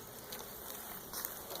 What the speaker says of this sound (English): These bees are wanting to go in this entrance here.